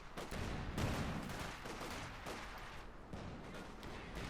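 Dense battlefield gunfire from a field gun and infantry in the video game Company of Heroes 2, with rapid overlapping shots and heavier booms forming a continuous fusillade that sounds fairly distant.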